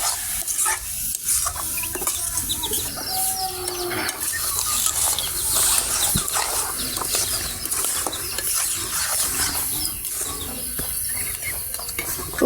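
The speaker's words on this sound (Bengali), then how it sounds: "তাড়াতাড়ি নাড়াচাড়া করতে হবে নয়তো জলপাইয়ের রাস্তার যে কোনো আচারই হোক নিচে থেকে খুব তাড়াতাড়ি লেগে যায়" Sweet, sour and spicy olive pickle being stirred in a pan, with continuous scraping and squeaky utensil strokes over a low sizzle that runs steadily throughout.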